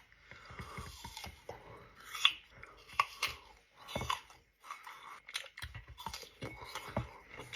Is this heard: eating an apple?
yes